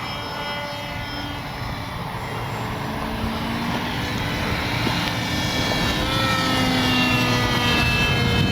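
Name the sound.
RC airplane flying overhead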